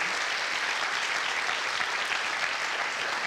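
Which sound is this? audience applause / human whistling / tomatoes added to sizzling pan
audience applause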